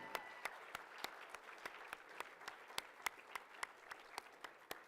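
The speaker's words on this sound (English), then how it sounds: "Let's give them another big round of applause" Sparse applause at a charity auction gala: a small number of distinct claps ring out one after another at a fairly regular pace, crisp against a quiet room.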